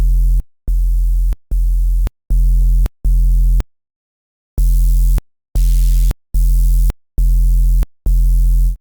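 Crunchy distorted bass synth from Serum 2 playing a series of sustained repeated notes, each a thick buzzing tone cut off sharply, with a short gap midway and a brighter, grittier second half.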